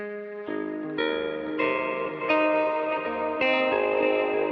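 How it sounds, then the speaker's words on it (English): A guitar runs through a ring modulator pedal on a pedalboard, giving loud, sustained metallic inharmonic tones that shift pitch in several steps, each new note entering abruptly and ringing on with no talk. "There's also a ring mod on it, so you can kind of hear it here."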